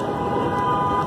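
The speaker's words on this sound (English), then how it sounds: "That's a lot of horn honking too." Car horn honking with a sustained tonal blare over traffic rumble at a protest rally in Denver, Colorado, fairly loud and close.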